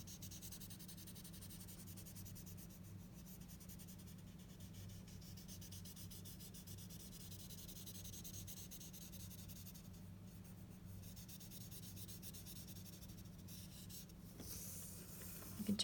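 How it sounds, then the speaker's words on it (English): Blending stump smudging graphite pencil shading on paper, a steady soft continuous rubbing and scratching texture that holds close and even throughout, with a slightly louder scrape at the very end. "Now we're just going to smudge that with our blending stump."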